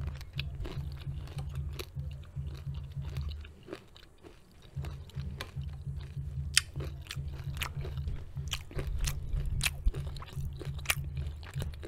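Granola clusters crunched and chewed up close for ASMR, steady wet mastication with crisp bites recurring throughout, a brief lull near four seconds, no talking.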